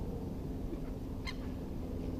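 Seagulls and crows squabble over peanuts and sausage scraps in a woodland feeding spot, a short honking call cutting through steady low background rumble and noise.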